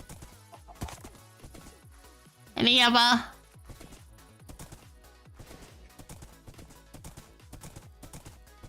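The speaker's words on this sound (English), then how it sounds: "This horse is fast. I'm impressed. Faster than the mule, anyway." Horse hooves gallop in Minecraft, a fast steady clip-clop rhythm throughout with a loud neigh partway through, while someone talks over it.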